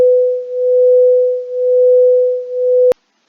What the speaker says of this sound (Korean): 501Hz의 소리를 즉 1Hz의 차이를 가지고 두 개의 스피커에서 동시에 이들 소리를 발생시켰을 때 과연 어떤 느낌이 올까요?